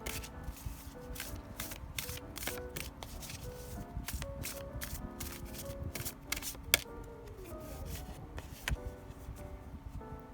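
Oracle cards for a tarot reading are shuffled by hand in quick, crisp riffles and flicks, repeated bursts close and fairly quiet with no talking.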